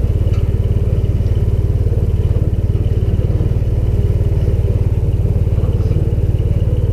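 A Taylor Dunn B6-10 burden carrier utility vehicle idles steadily, its engine giving a loud, close, even low chugging pulse with a faint rattle and no speech.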